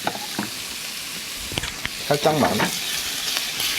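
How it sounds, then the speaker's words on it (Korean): Minced garlic sizzles steadily in a pan for a cream pasta, loud continuous frying with a few stirring scrapes, while a person briefly speaks over it. "제가 지금 다진 마늘을 넣으면서 또 너무 많이 볶아버렸네요"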